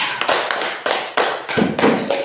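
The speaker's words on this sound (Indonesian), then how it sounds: "Silakan tepuk tangan buat kelompok 3" Classmates applaud a presenting group in a school lesson, the many hands falling into a steady rhythmic beat of distinct clap bursts, loud and close, with no talking.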